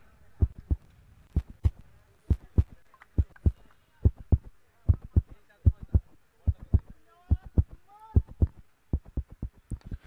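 A deep, thumping heartbeat sound effect at a tennis-ball cricket tournament final pulses in paired beats at a steady rhythm, loud and close, with a faint voice underneath.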